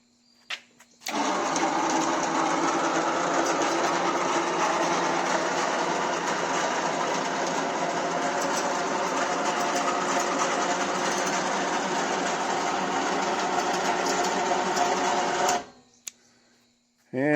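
A Harbor Freight electric lift mounted on a pickup tailgate hums and whirs steadily for about fourteen seconds, loud and close, starting and stopping abruptly, with no talking during the run.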